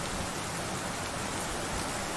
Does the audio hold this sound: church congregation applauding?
no